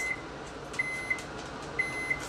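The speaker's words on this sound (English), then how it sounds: "It's just some water that's been boiling in the microwave" A microwave oven hums steadily while heating water to a boil, with faint high tones and light ticks pulsing at a few points over the quiet drone.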